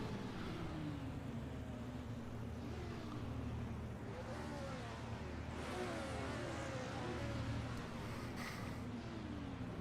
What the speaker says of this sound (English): Oh god, they're all revving.